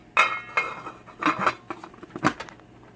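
A pot of boiling pine needle tea being covered, heard as several close metallic clanks and rattles of a lid against the pot spread over a few seconds, with no talking.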